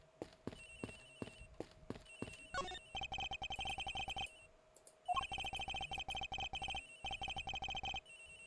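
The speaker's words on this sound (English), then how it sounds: "It's literally just a ringing phone." Electronic telephone ringing in the Ace Attorney Investigations game, first as short separate chirps, then long continuous trilling bursts with a brief gap, loud and close with no voices.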